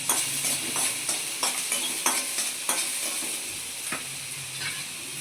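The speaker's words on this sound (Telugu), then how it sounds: "అందులో కూడా కొద్దిగా ఆయిల్ వేసి ఇవి గోల్డెన్ బ్రౌన్ వచ్చినంత వరకు వేయించుకోవాలి" Vegetables for a white radish chutney fry in a little oil until golden brown, a steady close sizzle with repeated sharp scraping and stirring knocks throughout.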